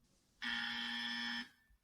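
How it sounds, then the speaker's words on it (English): A timeout buzzer on a quiz-style question round gives one steady, loud electronic drone lasting about a second, with a sharp start and stop and no talk around it. "you will hear a buzzer that sounds like this."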